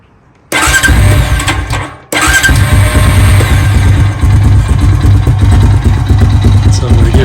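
A Honda ATV engine that had been running rich with carbon-fouled spark plugs cranks briefly, cuts out, then fires up and settles into a loud, steady, close idle.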